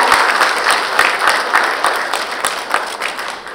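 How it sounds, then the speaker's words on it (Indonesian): Audience applause at the inauguration of the Jambaran Tiung Biru gas field project, sustained rippling clapping from a large gathering in a hall, loud and steady with slight swells, voices faint underneath. "Bolehkah berikan tepuk tangan yang luar biasa?"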